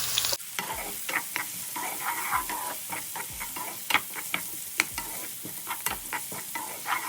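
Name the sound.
sliced onions frying in sunflower oil in a hot pan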